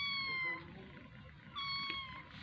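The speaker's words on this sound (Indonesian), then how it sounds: "Ini juga kucing buangan, baru dibuang." Stray cat meowing at a market, two drawn-out plaintive meows separated by a pause, fairly faint over low background murmur.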